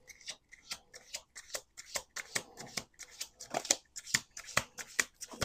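Playing cards being shuffled in quick, rhythmic riffles, a run of sharp fluttering bursts close by with brief pauses between.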